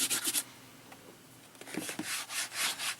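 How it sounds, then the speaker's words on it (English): Fingers rub manganese blue paint across a canvas in soft, close scratchy strokes, a brief cluster at the start, a pause, then steadier rubbing toward the end. "I'm just spreading this paint around"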